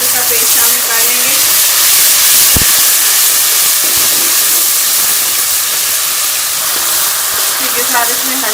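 Tomato paste hits frying onion masala with ginger-garlic paste for an aloo hara chana sabzi, sending up a loud, steady, broadband sizzle that hisses without a break, with a few faint clinks.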